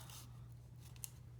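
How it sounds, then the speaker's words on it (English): Scissors cutting paper for Halloween-themed pocket pages, with soft, close snips in a few short bursts over a faint steady hum. "So it's kind of fun to do it with these scissors."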